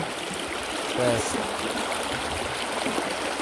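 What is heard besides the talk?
river stream water flowing, Jalalá river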